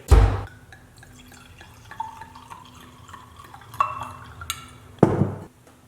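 Red wine poured into a cooking pot for Venetian duck ragù: soft trickling and dripping liquid, framed by sharp clinks of glass or pot at the start and near the end, close up with no talk.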